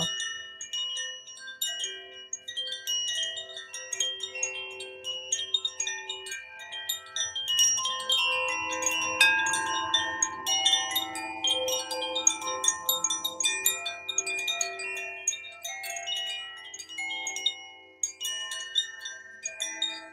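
Meditation chimes ring throughout a sound bath, delicate overlapping metallic tones shimmering and sustaining, soft and continuous with gentle random strikes and no talking.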